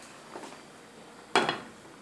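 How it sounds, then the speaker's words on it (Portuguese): A lid set onto a rice pot on a low-heat home stove: one sharp, close metallic clank with a brief ringing decay, after a fainter knock earlier. "Tamparei a panela de arroz."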